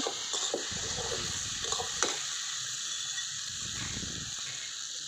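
Chili and cumin powder sizzle as they are stir-fried in a pan for neem-leaf chorchori, a soft steady frying hiss with faint scraping stirs, low and close, with no voices.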